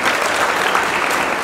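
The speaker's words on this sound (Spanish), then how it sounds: "Aplauso para Anthony." Loud, dense burst of applause for a student at a school event, continuous and close for a brief moment.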